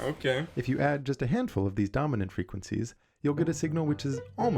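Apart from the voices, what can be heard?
No distinct noise like a dog, phone or traffic.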